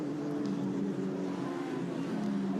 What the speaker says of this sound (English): So the cars head into towards the Sachs curve.